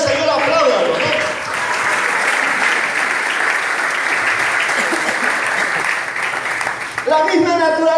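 Church congregation applauding during a Spanish-language sermon, a loud, sustained wash of clapping with voices beneath, and a speaker's voice cutting in briefly at the start and again at the end.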